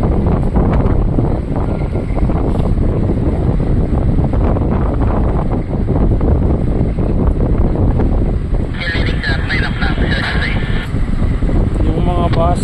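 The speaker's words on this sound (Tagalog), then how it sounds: "Malakas yung hangin." Strong wind roars and buffets the microphone continuously at a ferry port where shipping line vessels dock, a loud, dense rumble filling the whole stretch with faint higher tones near the end.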